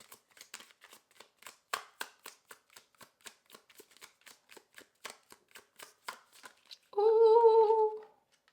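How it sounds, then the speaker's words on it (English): A deck of tarot cards is riffled and shuffled by hand, giving a run of quick, soft papery flicks close up, then a short sustained tonal chime at the end. "One more shuffle."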